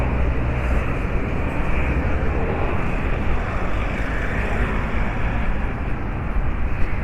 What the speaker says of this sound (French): Avec les voitures, je ne sais même pas si vous m'entendez.